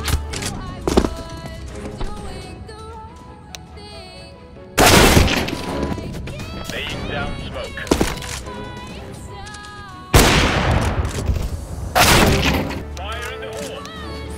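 Gunfire in Counter-Strike: Global Offensive, with bursts of loud rifle shots and impacts in clusters over game ambience, several sharp volleys punctuating the clip.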